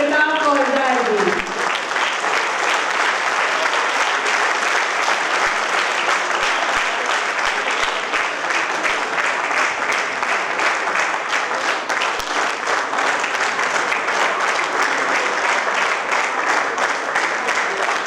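Loud, sustained applause from a large audience welcoming a poet on stage at a Hindi kavi sammelan, dense clapping filling the whole stretch without a break.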